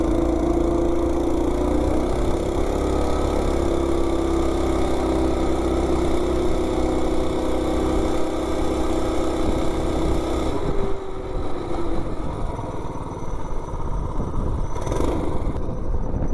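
A Coleman B200 mini bike engine fitted with a 42 sprocket drones loudly and continuously while climbing a hill, its pitch holding steady before the note drops and roughens as it eases off near the end.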